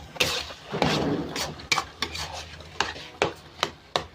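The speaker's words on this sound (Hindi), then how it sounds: "ये इनको भून रही हूँ मैं।" A spoon stirs chana dal as it roasts in a pan over a medium flame, making repeated dry scraping and rubbing strokes with short sharp scuffs against the pan, close and moderately loud.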